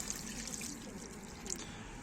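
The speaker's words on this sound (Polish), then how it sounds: "Zlejemy trochę wody." Water poured off from a box of bloodworm fishing bait, a soft, quiet continuous trickle with faint splashing close by.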